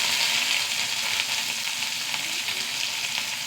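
Small shallots frying in hot coconut oil with mustard seeds, curry leaves and a dried red chili: a dense, even hiss of sizzling that stays loud and continuous, with no talk.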